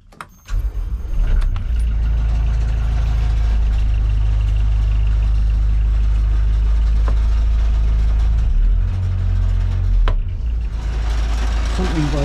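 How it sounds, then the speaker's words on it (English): A boat engine turns over and catches, then settles into a steady, loud low idle rumble with a brief dip midway, close by in the cabin. "Let's actually now start the engine."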